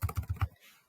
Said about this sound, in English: using the keyboard and punching shift 6